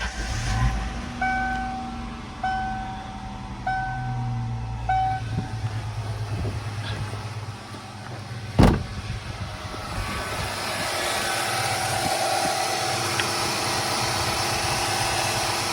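A bracket racing Ford Mustang engine, just refilled with coolant, with repeated warning chimes before a cranking start, then a steady, loud idle rumble continuing to the end; no talk.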